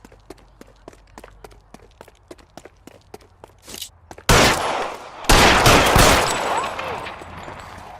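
Footsteps tap out an even rhythm in L.A. Noire, then a loud burst of gunfire erupts and continues in rapid, dense volleys that fill the rest of the scene.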